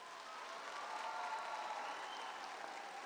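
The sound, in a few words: graduating seniors applauding parents and guardians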